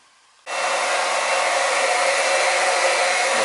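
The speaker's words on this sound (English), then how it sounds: "I'm pumping all the oil into these containers here, these barrels, so I can rip them tanks out." A pump starts abruptly and runs as a steady, loud broadband whir while transferring heating oil from tanks into barrels, with no voices.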